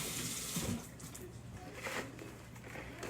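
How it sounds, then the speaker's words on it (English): Faint running water from a tap as a hand is wetted for kneading sourdough, a soft steady hiss with a brief splash near the start, no talking. "You're gonna get your hand wet."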